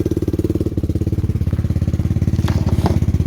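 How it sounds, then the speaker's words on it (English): A Lifan KP Mini 300 motorcycle with a ZS175FMN four-valve engine runs close and loud with a rapid, even firing pulse that picks up slightly as it revs, no voices. "I can actually rev it out so I can check the plug"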